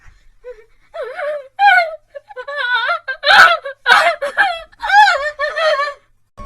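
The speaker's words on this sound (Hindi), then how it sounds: "वो रोने की आवाज़ें किसी के बच्ची के रोने की आवाज़ें थी।" A young girl cries and wails in a horror-story sound effect, with broken sobbing moans and whimpers rising and falling in short loud bursts over near silence.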